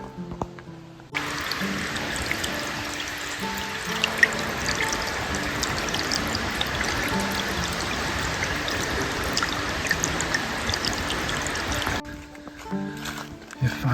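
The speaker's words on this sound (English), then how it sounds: "Can hear the river." A river rushes in a constant broadband roar beside a campsite on the Superior Hiking Trail, starting abruptly and holding steady for about eleven seconds before cutting out.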